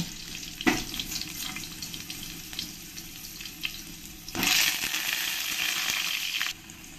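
Potato pieces dropped into hot mustard oil set off a steady frying sizzle, with a louder, brighter burst of crackling midway that holds for about two seconds before easing off; no voices.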